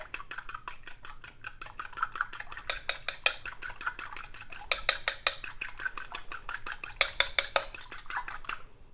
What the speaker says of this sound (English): I have 3 eggs that I'm just going to lightly beat